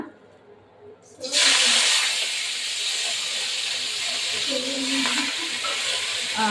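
Fresh fenugreek leaves dropped into hot oil in a pan burst into a loud, steady sizzle after a quieter opening second, frying on continuously with faint stirring underneath.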